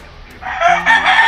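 Chickens cluck and a rooster crows loudly and close by, a brief burst that rises sharply after a quiet start and carries to the end.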